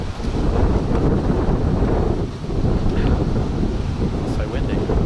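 Strong gusty wind buffets the microphone in a steady low roar on a street in Marbella, with a brief lull midway before the rumbling resumes.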